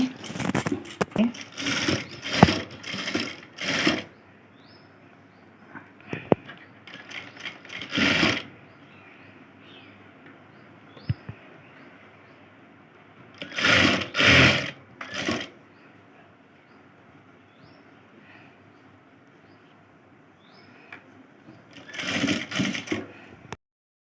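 Sewing machine stitching a triangle-shaped blouse back neck design, in several short loud bursts of rapid stitching separated by quiet pauses, near and close-up.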